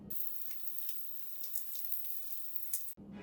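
Tofu deep-frying in hot oil after about fourteen minutes, a steady fine sizzle and crackle with softer, calmer bubbling, close and continuous before cutting off abruptly near the end.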